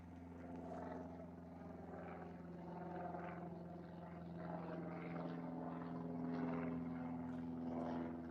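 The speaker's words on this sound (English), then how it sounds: "there's our Cessna Skyhawk from the Merseyside and Aero" A Cessna 172S Skyhawk propeller plane drones at a distance near Liverpool Airport, a low steady engine hum that swells slightly as it passes.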